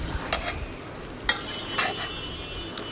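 Cut raw mango pieces going into a pan of hot oil for a sweet-sour-spicy pickle, a quiet sizzle with a few clinks and stirring scrapes, one sharper splash-like hit midway.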